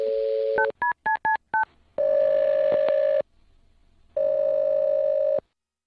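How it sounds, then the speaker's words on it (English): Touch-tone telephone dialing a number: a quick series of sharp DTMF key beeps, then a long steady dial tone, a short pause and another long tone, loud and clear with no talking. "I'm going to dial her phone number."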